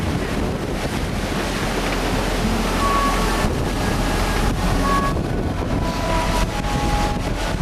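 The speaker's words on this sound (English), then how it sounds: "So the boat will surf down some of these waves." Sailboat Nereid surfing down large ocean swells on a passage from Oahu to Bellingham, with a loud, continuous rush of wind and breaking water against the hull and faint creaks in between.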